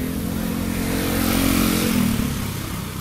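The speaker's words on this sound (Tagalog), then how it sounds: "Maraming motor din dito." Motorcycles pass along a busy road, a mid-pitched engine drone swelling as one rides close by and then easing off, steady and fairly loud with no talk.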